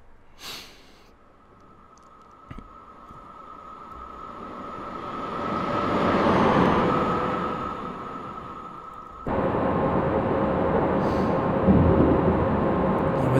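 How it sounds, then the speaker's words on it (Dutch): A steady metallic ringing of rails sings beneath a train in Train Simulator 2017 during a tow of a defective train, over a deep rolling rumble that swells, fades, then jumps louder again. "Zingen van de spoor is het ook"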